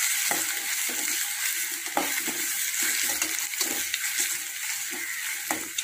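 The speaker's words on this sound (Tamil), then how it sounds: "நல்லா பொன்னிறமாக வதக்கிக்கலாம். வெங்காயம் நல்லா வதங்கிடுச்சு." Onions sautéing with salt in a pan give a steady sizzle and fry hiss, broken by the scrape and clatter of stirring at irregular intervals, close and with no voice over it.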